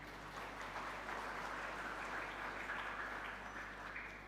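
Church congregation at a Sunday worship service applauds together, a steady, even wash of clapping heard from a distance at low volume, continuing without a break for several seconds.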